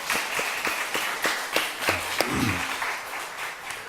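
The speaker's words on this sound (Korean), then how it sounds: "그래서 감사함으로 박수 한번 치겠어요." A church congregation clapping together in steady rhythmic unison during a Sunday sermon, loud and close, with a brief low murmur partway through.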